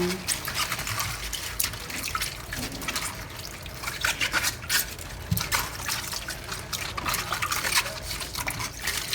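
Bok choy is swished and rinsed in a bowl of water for a Jamaican-style dish, giving close splashing, sloshing and trickling sounds in irregular bursts, with someone speaking over it.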